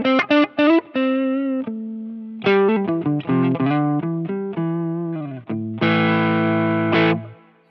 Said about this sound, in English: if I hit that with a boost, you can hear it's just kind of giving that tube screamer hump a little bit